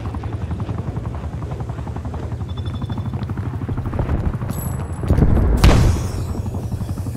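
An enemy attack helicopter passes overhead in the multiplayer video game Call of Duty Black Ops Cold War, with a loud, continuous rotor thump and a sudden blast-like burst near the end.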